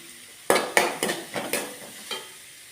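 Green chilli, ginger and salt sautéed in a pan for chicken cutlets: six or so crisp spoon strokes scraping the pan in an even rhythm over a faint sizzle, close up and with no speech.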